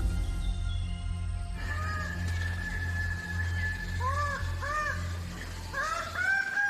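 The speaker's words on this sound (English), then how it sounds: "These are the birds of paradise." Birds of paradise calling in Indonesian forest: repeated loud, rising and falling whistled calls in short bursts, close by, over a dense rumbling background of insects and ambient forest noise.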